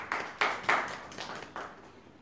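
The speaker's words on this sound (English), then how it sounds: "give the Lord a hand clap" A church congregation gives a hand clap: a handful of scattered, irregular claps from several people, moderately close and fairly quiet, fading out after about two seconds without talking.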